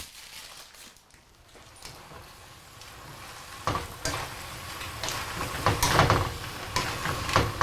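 Greens tossed into an oil-free stir-fry of cauliflower, spinach and mushroom start quietly, then build into a crackling sizzle with clattering stirs and handling noises close by.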